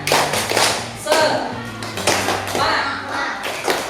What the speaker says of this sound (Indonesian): kita lakukan tepuk semangat dulu. Tepuk semangat.